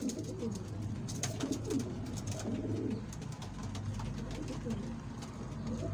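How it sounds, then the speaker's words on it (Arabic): Homing pigeons at a new loft coo softly in repeated low, throaty calls close by, over a steady background murmur with faint chirps and a brief voice. "طبعا زي ما انتم شايفين الزغلول بياكل من جوه."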